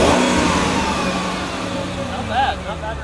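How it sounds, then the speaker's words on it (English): The V8 engine of a 2001 Mercedes-Benz CL500 running steadily and loud up close, with a swelling rev partway through over a constant low rumble. "Let's hear the engine."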